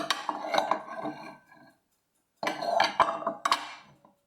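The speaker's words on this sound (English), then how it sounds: "I got these 3 nesting bowls, really good condition" Three colorful East German nesting bowls in good condition are handled up close. They clatter and clink in two short bursts of knocks and scrapes, separated by a silent pause.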